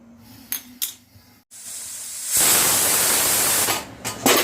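A pressure cooker holding spinach stems and moong dal releases steam in a loud, sustained hissing rush after a few soft knocks and a short pause; no one speaks.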